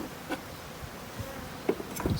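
Honey bees buzz around a Slovenian AZ hive during an inspection, a faint steady hum broken by a few louder passes of individual bees close by.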